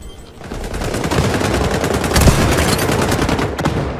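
Dense shotgun gunfire in the video game XDefiant, loud and continuous with rapid overlapping blasts filling the whole stretch, with no talk.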